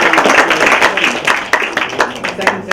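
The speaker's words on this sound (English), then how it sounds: "we'd like to give our three speakers a round of applause" Audience at a media ethics session of a peace convention clapping for three panel speakers, a close, busy patter of hands that fades slightly toward the end.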